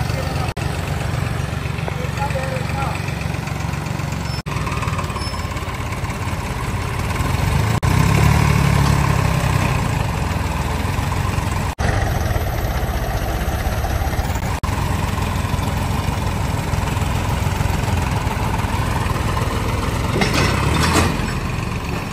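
A John Deere tractor idles beside a Sonalika during a tractor tug-of-war, its low engine rumble steady and continuous throughout while people talk over it.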